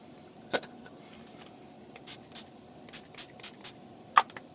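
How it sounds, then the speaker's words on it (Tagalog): Makeup setting spray misted over a face wearing Covergirl + Olay Simply Ageless 3-in-1 liquid foundation, a series of short close hissing spritzes, with two sharper bursts near the start and end and softer puffs between. "mag-spray na lang tayo ng setting spray"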